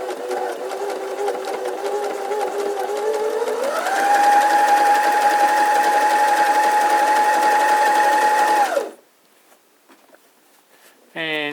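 Janome MS 5027 sewing machine running steadily and loud for about nine seconds as it sews a pyramid stitch, the motor pitch rising partway through, then stopping abruptly into near silence.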